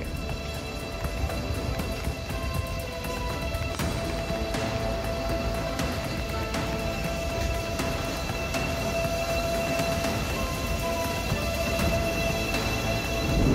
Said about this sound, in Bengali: এই দেখুন, আর একটা ট্রেন পানির উপর দিয়েই চলছে।